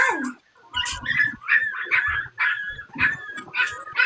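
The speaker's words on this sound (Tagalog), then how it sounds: "Nagutom na yung mga aso mo." Dogs bark in a rapid, repeated series of sharp, fairly close barks with brief pauses between bursts, standing out clearly with little talk around them.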